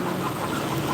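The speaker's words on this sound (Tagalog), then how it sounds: "May manok dyan." A chicken clucks outside in heavy rain, its faint calls half buried under a loud, steady hiss of downpour.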